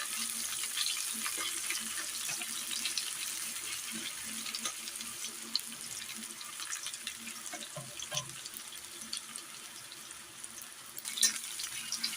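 Onions frying in a pan with cumin, chilli and bay leaf make a soft, continuous hiss, with scattered faint clicks and stirring scrapes.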